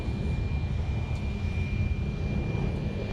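A steady, broad jet roar with a faint high whine comes from an airliner on the runway at Minneapolis–Saint Paul airport, a continuous engine rumble at moderate distance with no voices.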